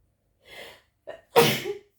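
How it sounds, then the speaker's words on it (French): A person sneezes indoors mid-sentence: a short inhale, a quick catch of breath, then one loud, close, sharp sneeze against a silent background. "je croyais que j'allais réussir ma phrase avant d'éternuer, mais j'ai pas réussi."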